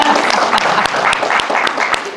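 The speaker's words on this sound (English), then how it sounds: "We'll clap hands for yourself" Audience applause at a finance and property valuation show, steady dense clapping with a few sharp individual claps standing out, filling the whole short stretch at close range.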